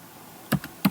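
Typing a disk partition command on a computer keyboard: two or three soft key taps in a quiet room, close and faint, with a short gap between strokes.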